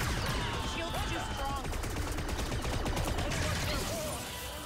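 Rapid blaster gunfire from a shootout in the Star Wars Outlaws video game, dense and continuous throughout, mixed with game music and effects while a voice talks over it.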